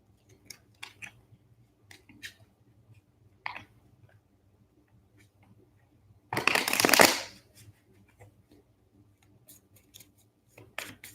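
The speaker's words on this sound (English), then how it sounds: "I'm going to shuffle the cards first." Scattered light tarot card clicks and taps, then a burst of cards being riffled together for about a second, followed by more sparse clicking, close and quiet.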